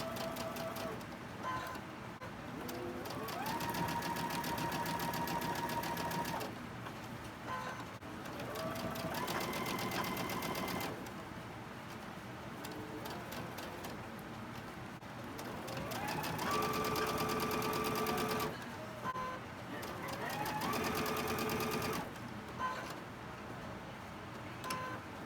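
A sewing machine stitches a quarter-inch seam on a quilt block in bursts of steady rapid whirring, with short pauses between runs and soft handling noises in the gaps.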